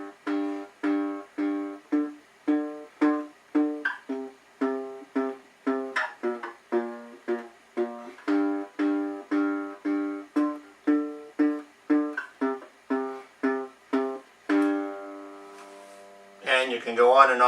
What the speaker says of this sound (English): So that's basically how you can play on a diddly bow.